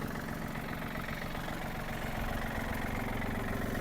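A Yanmar RS-30 Japanese mini tractor idles close by with its gear disengaged and brake set, the engine giving a steady, even low rumble throughout with no talk.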